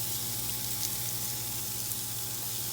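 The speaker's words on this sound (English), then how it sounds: "we're going to saute that onion just a little bit" Onion sautés in a pan for turkey wing gravy, with a steady, even sizzle heard alone and close.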